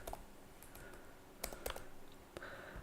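Code being typed on a computer keyboard, with quiet, irregular key clicks in short bursts and a few sharper taps against a faint room hum, no voices.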